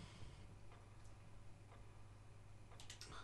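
Faint, steady ticking from a clock in the Resident Evil video game, with Jill Valentine playing. The soft ticks repeat at a regular pace over a quiet, hissy game background.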